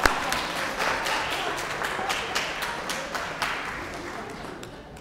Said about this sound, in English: Y'all give these 2 volunteers a round of applause.